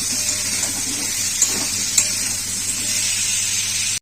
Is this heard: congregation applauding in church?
no